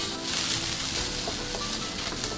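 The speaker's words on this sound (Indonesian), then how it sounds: "Lalu panaskan sedikit minyak, tumis bawang putih dan jahe." Garlic and ginger sautéing in a little hot oil, a steady close sizzle and hiss that runs unbroken without a break, with faint stirring underneath.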